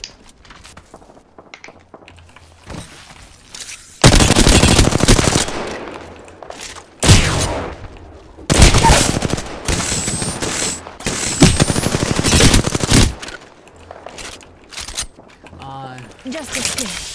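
Loud bursts of automatic gunfire in the battle royale game Apex Legends come in several separate volleys, each a few seconds long, separated by quieter gaps in which a player talks.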